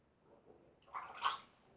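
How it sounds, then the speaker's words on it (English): A razor rinsed under running water, a short splashing gush that swells and peaks briefly before fading, close and fairly quiet. "I'm going to rinse my razor more often."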